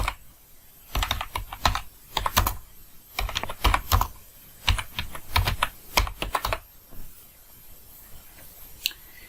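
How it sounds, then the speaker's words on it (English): Typing on a computer keyboard at a desk: bursts of quick, close key clicks in several runs with short pauses between, fading to a few scattered taps at the end. "So now I type Google Tag Manager."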